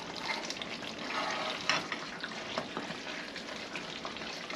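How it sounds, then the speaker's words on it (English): Oxtail fries and sizzles in a pot while being stirred for a Cuban-style dish, giving a soft, steady crackle with scattered scrapes and clinks, fairly quiet and heard alone. "Let's give this a stir."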